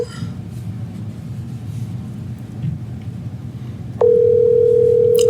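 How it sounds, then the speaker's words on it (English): A steady telephone ringback tone comes in partway through a call, loud and continuous after a stretch of low rumbling background noise. "It's ringing."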